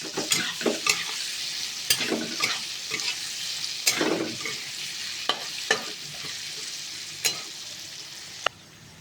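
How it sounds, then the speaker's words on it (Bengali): Yam pieces frying in a pan with turmeric and salt, a soft continuous sizzle with irregular stirring scrapes and a few sharp clicks of utensil on metal, close by and alone. "এখন এটাকে ভালো করে লাল করে ফ্রাই করতে হবে।"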